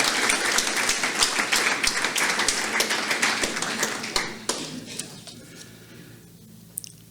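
An audience at a vision health gala applauds, with loud, rapid, overlapping clapping that thins and fades out over several seconds, leaving a few scattered claps.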